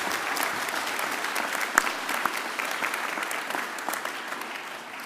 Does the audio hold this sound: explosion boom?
no